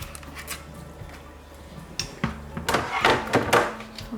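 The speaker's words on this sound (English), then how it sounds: "pour this through the Varoma that I have here" Cooked pasta is poured through a Thermomix Varoma, with clattering metal and plastic thunks and a splashy rush of draining water growing louder toward the end.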